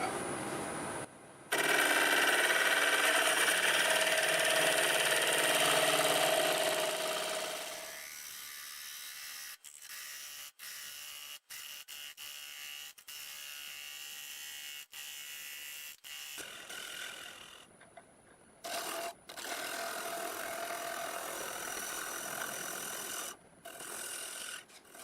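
A wood lathe spinning at about 1100 RPM cuts a juniper end-grain bowl with steady raspy scraping, first loud and continuous, then lighter with short clicks, then resuming, with no voices.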